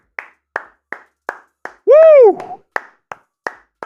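A single person claps steadily at an NBA game celebration, about ten sharp, evenly spaced hand claps close to the mic, broken midway by a loud drawn-out cheering shout.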